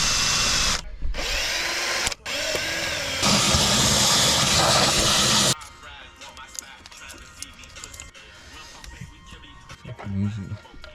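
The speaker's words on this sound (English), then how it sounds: "got the drill with this attachment" A power drill whines loudly in long, steady runs with brief stops while working on a 2007-08 Chevy Silverado 1500 valve cover, then drops to quieter handling noise and low voices.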